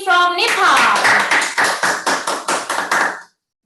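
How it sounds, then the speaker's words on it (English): Applause for a drama team at a peace festival stage event, a steady run of brisk, fairly close claps that cut off suddenly near the end. "Let's give another round of applause to Hyojeong drama team from Nepal"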